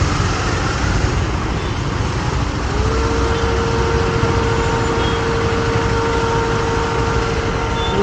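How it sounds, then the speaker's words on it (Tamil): Heavy highway traffic rolls past continuously, a dense roar of cars, trucks and buses with engine drone and a sustained horn-like tone partway through, loud and close with no talking. "இன்னும் இவ்வளோ டிராஃபிக்காக இருக்குது."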